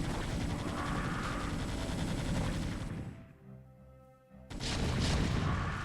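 Siege tanks fire on hydralisks in StarCraft: dense, loud rapid booms and shots pound continuously, thin out into a brief lull, then resume heavily.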